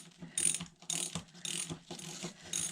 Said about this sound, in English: I'm using my socket.